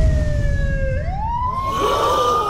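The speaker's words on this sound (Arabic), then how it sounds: "A siren button." A soundboard app plays a siren effect, a loud electronic wail gliding down and then up in pitch over a rumbling engine-like background, with no talk.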